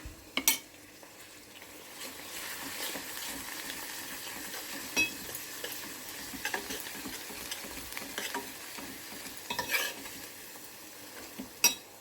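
Ginger paste dropped into a hot pan while cooking aloo curry sizzles steadily under repeated utensil stirring and scraping, with a few louder clinks of metal against the pan, close and clear with no talk.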